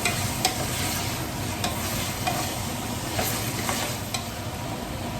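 Chopped onions and ground paste fry in hot oil for a chicken biryani, a steady loud sizzle with faint scrapes of stirring throughout, no voices.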